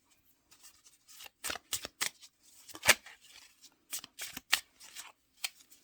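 Tarot cards shuffled and drawn close up, a quiet run of crisp riffling snaps and slides in uneven bursts, with no talk.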